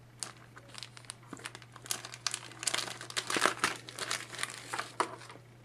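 Plastic packaging crinkling and crumpling up close as a lace wig strap is pulled out, a run of irregular rustles and crackles that grow busier midway and then ease off, with no talking.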